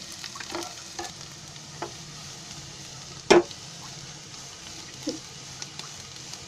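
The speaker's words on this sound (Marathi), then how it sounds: "ही बटाटी कशी अशी चांगली जरा थोडासा कलर यायला द्यायचा, म्हणजे ती तेलामध्ये आहे ना चांगली फ्राय होतात।" Boiled potato pieces fry in oil while being stirred, a faint steady sizzle with soft scraping stirs and one sharp clack of the utensil against the pan midway.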